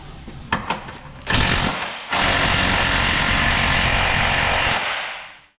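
Impact gun on a 2016 Nissan Qashqai front lower arm bolt gives a few short bursts, then a loud sustained hammering rattle lasting several seconds before cutting off.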